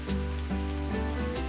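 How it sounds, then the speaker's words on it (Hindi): Steady rain falls in a brief burst, a dense hiss of drops with a few louder patters on top. "बारिश शुरू हो गई।"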